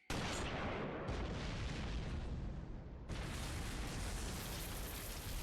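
Tank cannon from FUGA 3 blasting a fortress gate: a massive, sudden boom opening into a long roaring wash of debris and rumble, very loud and close, with no talking.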